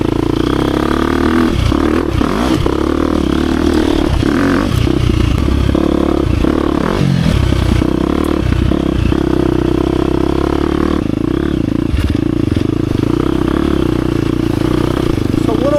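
A 2023 KTM 350 XC-F Factory Edition four-stroke dirt bike engine roars steadily up close while climbing a hill, with revving surges, clattering and scraping throughout, and a voice speaking over it at times.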